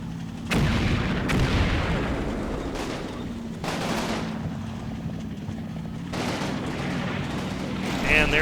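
Artillery strike in a military video game: several heavy booming impacts land one after another at irregular intervals over a low rumbling background, moderately loud with some distance to them, and a voice talking over it.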